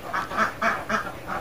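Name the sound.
ducks quacking on a duck farm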